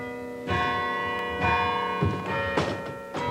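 Church bells ring at St. John's Anglican Church in Lunenburg, with several resonant strikes whose overtones hang and overlap into a continuous humming peal.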